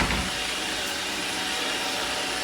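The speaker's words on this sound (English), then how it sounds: "I don't have to hold the vacuum" An iRobot robot vacuum cleaner runs with a steady, broadband whirring hum at an even loudness, close by and uninterrupted, with no speech.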